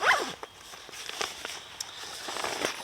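The zip at the top of a Lundhags Gneik 54-litre backpack, worn after hard expedition use, is pulled open in one quick close rasp, followed by light rustling and handling of the pack.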